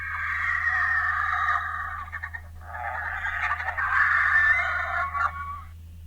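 A South African vulture, an endangered species, calling with two harsh, raspy, drawn-out hissing cries, close and fairly loud, separated by a brief pause, over a low steady hum.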